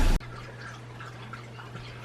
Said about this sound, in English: All dogs have to cycle through and take a drink of water.